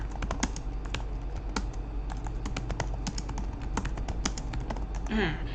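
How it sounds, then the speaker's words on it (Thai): Rapid typing on a computer keyboard, close up, with quick irregular clicks and clacks running steadily over a low background hum. "แล้วก็พิมพ์ไปเลย ว่าเป็น The Witcher นะคะ"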